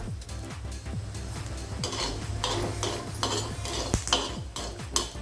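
Roasted coriander seeds being scooped out of a pan onto a plate, heard as close metallic scraping and clinking of a spoon against the pan, with faint sizzling underneath.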